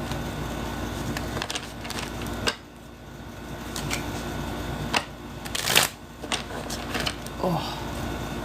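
A deck of playing cards is shuffled repeatedly at close range, with crisp riffling bursts and soft taps between them in a quiet room.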